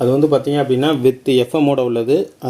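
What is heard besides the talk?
No distinct noise like a dog, phone or traffic.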